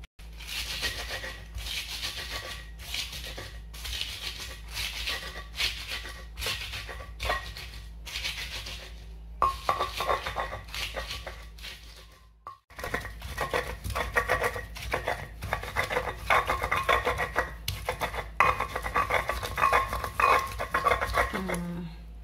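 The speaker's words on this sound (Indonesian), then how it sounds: "cara nguleknya itu harus ada irama yang gesekan yang sama" Green chili sambal being ground in a stone mortar, a close, steady rhythmic rubbing and scraping of stone on stone that pauses briefly midway before resuming, with no talking.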